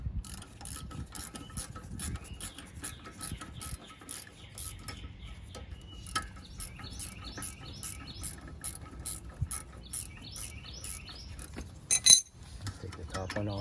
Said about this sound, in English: as I'm loosening this up, this bolt is turning with it, so I'm going to use this wrench